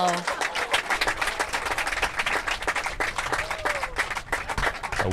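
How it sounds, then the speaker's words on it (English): Crowd applause at a pro mixed doubles pickleball match at the Florida Grand Slam after match point, with dense sustained clapping throughout and voices mixed in. "A well-deserved round of applause from the crowd."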